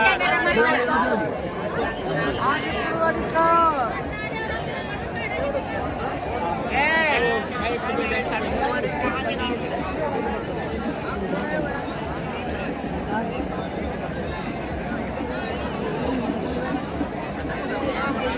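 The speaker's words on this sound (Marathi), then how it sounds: "अशी भरपूर गर्दी असते बघा मित्रांनो." Large crowd chattering steadily at the Yellamma Devi temple fair in Kasegaon, a dense, continuous babble of many voices close around with occasional louder calls rising out of the hubbub.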